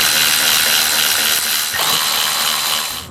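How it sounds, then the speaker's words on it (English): A power tool with a 9/16 socket whirs loud and close while removing the caliper bolts on a Hyundai's rear brake, a continuous buzzing drone with a brief dip partway before it winds down. "get back in here with a 9/16 socket and take this bolt and this bolt out"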